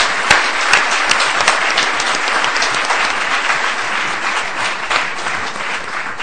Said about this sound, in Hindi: उनके लिए आप एक बहुत जोरदार तालियां बजाएं